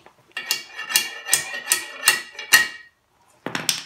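A spacer is tapped onto a go-kart axle, giving six sharp, evenly spaced metallic taps up close, a brief pause, then a quicker cluster of lighter knocks.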